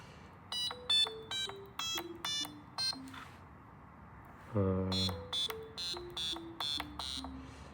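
A piezo buzzer beeps out a run of short electronic notes stepping down in pitch, pauses, then plays a similar descending run again, loud and close.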